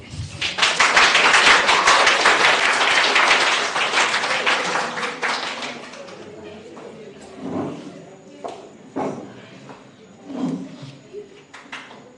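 A crowd claps steadily for several seconds at an inter-school debate, then the applause fades and a voice begins speaking.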